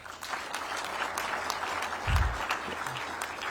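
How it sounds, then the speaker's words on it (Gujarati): Brief clapping from a school audience at a Gandhinagar student education-scheme event, a steady patter of hands under a thin room hum, with no one speaking over it. "બધા માટે એક વખત તાળી થઈ જાય"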